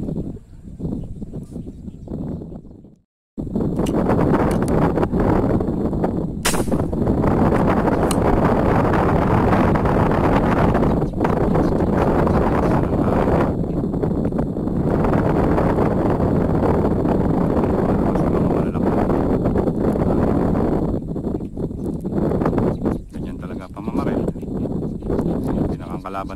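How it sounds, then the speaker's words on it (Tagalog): Strong wind gusts buffet the microphone on Laguna Lake during a fishing trip, a loud continuous roar after a brief quiet start, with people talking now and then. "Papasok ang hangin."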